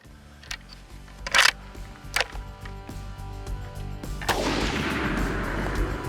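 A Winchester Legend 350 rifle fires at a hog during a night hunt, with a few sharp reports and clicks close by, followed by a louder rushing noise.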